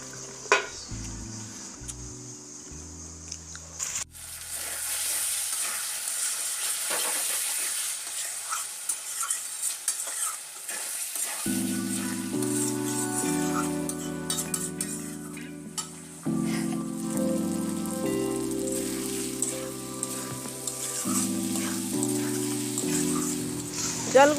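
Fish curry (danga mach jhol) sizzling steadily in a pan after a little water is added, with frying hiss and occasional stirring clinks, under a low background tone that comes and goes.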